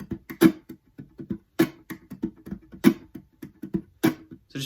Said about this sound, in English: the uppercase X's are where you would slap your guitar over the sound hole using your right hand